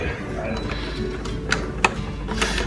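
A key turns in the lock of a bar cabinet belonging to Valencia's city council, giving a few close mechanical clicks and ratcheting as the door is worked open, with some background voice.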